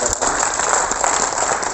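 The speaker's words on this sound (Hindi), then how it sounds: "एक बार जोरदार तालियां इन विभूतियों के सम्मान।" Audience applause for the poets on stage at a Hindi comedy poetry gathering, a dense, steady wash of clapping filling the whole short stretch.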